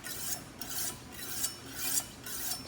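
A knife blade is drawn over the stones of a Wicked Edge Commercial Series sharpener in alternating upward strokes, making quiet, close rasping scrapes about every half second.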